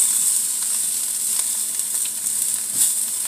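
Beyond sausage with green onion fries in a pan, a steady loud sizzle with soft crackles throughout, no voices.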